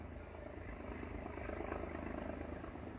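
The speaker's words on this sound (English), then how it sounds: "Chopper." A helicopter flies overhead above the trees, its steady rotor and engine drone held at a constant, moderately distant level with no voices.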